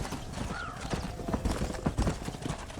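Steady clip-clop of horse hooves trotting along, close and continuous, with faint creaking mixed in and no talking, in the video game Red Dead Redemption.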